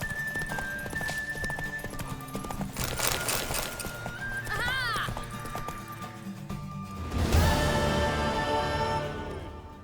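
Horse neighs and whinnies with clip-clopping hooves in The Witcher 3 video game, the whinny rising mid-clip over steady game ambience and music, with a louder burst near the end.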